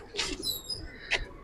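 Army Federal pigeons giving a couple of short, soft calls, a brief burst near the start and another near the end, with quiet pauses between and no talking.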